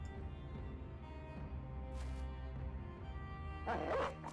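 War dogs in the video game Battle Brothers bark and yip in short bursts over a steady background drone of game music, with a louder flurry of barking near the end.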